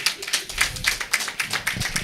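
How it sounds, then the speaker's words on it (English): Scattered, modest clapping from a small audience at a live forum on legal frameworks and justice for women in Africa, uneven individual claps rather than full applause, fairly close and brief. "Can we clap for her, please?"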